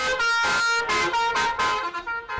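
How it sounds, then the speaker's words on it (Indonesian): Bus telolet horn on a passenger bus, loud and close, playing a rhythmic melody of several bright sustained tones in quick succession, with no talking. "para pengemudi bis memasang klakson telolet"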